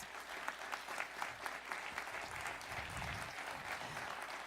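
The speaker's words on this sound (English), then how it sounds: "Please give them a big round of applause." An audience at a ribbon-cutting ceremony for a new Georgetown University building gives a sustained round of applause, faint and distant, with the dense clapping continuing evenly throughout.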